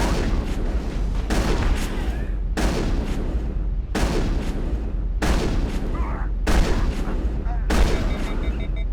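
Gunfire in the video game Mass Effect 1 rips out as a string of loud, rapid bursts with short gaps between them, dense and close, with no speech.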